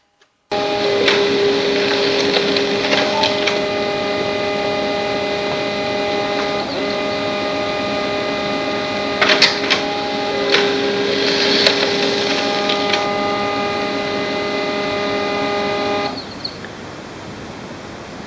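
An HP LaserJet Pro MFP M28w laser printer runs steadily for about fifteen seconds with a mechanical whir, feeding and printing a four-page two-sided document with a few brief clicks, then stops.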